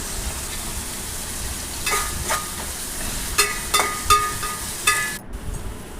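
Onions frying in a pan for tomato rice give a soft steady sizzle, broken by several sharp scraping bursts as they are stirred.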